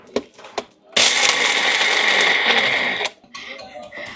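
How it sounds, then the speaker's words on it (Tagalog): A blender roars loudly for about two seconds, crushing ice with a harsh grinding whir, preceded by a few sharp clicks and followed by quieter clatter. "so ilalagay ko siya sa blender"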